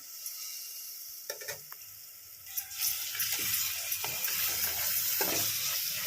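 Yogurt being stirred into a sizzling mixture in a pan for egg biryani: a steady hiss of frying with scraping spoon strokes, starting quieter and growing into continuous sizzle with periodic stirring knocks.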